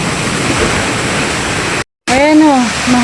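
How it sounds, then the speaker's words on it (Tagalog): Strong wind roars as a steady broadband rush over a rooftop garden, cut by a brief silence, then a voice speaks over the continuing gusts. "Ayan o, mahangin."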